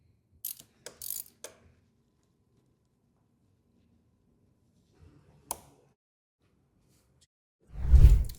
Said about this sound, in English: Let's get this chain tightened up.